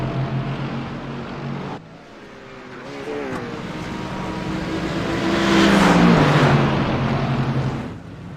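A race car engine in a racing video game at Lime Rock Park pulls out of the pit lane, rising and revving with shifting pitch under continuous commentary.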